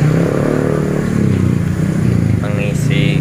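A stalled motorcycle's engine running again after oil was added through the spark plug hole, a loud close idle with uneven revving and some clatter, a voice speaking over it.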